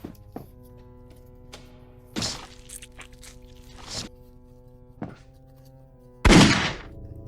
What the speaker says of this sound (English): some of the enemies some of them actually shoot at you or fire projectiles